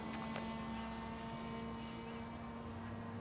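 A home-built Peace Drone's propellers drone in a steady, even hum during its maiden flight as the throttle is pulled back, with a constant tonal whine and no talking.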